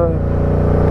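A Ducati Diavel 1260 twin-cylinder motorcycle engine runs steadily close by, a loud, continuous low rumble with a throbbing harmonic drone and no break.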